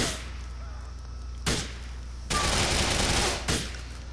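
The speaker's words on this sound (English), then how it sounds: "No, wait, they're all carrying SMGs." Submachine guns fire in Grand Theft Auto IV: after a quiet stretch, a short sharp burst is followed by a longer rattling volley, loud and dense, then a brief trailing burst.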